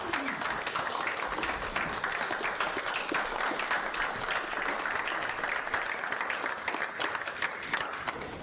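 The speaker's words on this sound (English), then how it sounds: "Let's give them a round of applause." Steady applause from a modest audience at a Blackwell, Oklahoma city council meeting, a dense patter of hand claps sustained for several seconds at moderate volume in an indoor chamber.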